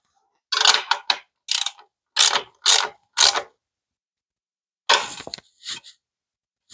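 Nylock nuts and flange bolts on a motorcycle headlight bucket are tightened in a run of short, close ratcheting bursts separated by pauses, with a second cluster of clicks after a longer gap.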